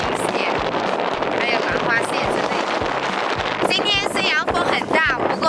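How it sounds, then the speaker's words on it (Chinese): Strong wind buffets the microphone in a steady broadband roar at the seashore while gathering shellfish and crabs at low tide, with a voice talking over the gusts throughout. "今天虽然风很大"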